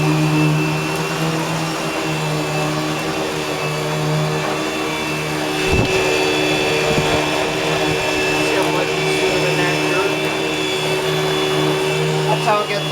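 A Eureka Boss Smartvac 4870 upright vacuum cleaner running on carpet, a loud continuous motor whine with a steady hum and slight shifts in pitch as it moves, with a few brief thumps partway through.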